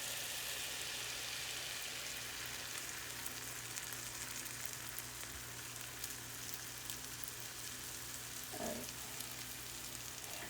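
Pancake batter sizzles in a buttered frying pan, a steady, fairly quiet hiss and crackle that runs unbroken, with a brief clink partway through.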